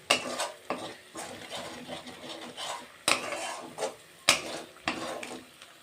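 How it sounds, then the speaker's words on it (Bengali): Spice paste thinned with a little water gets stirred in a pan over medium heat, with repeated scraping strokes of a spoon against the pan, sharp clinks at intervals, and a soft sizzle beneath. "এখানে আমি অল্প জল দিয়ে মশলাটা কষাচ্ছি, তাহলে মশলাটা নিচে লেগে যাবে না"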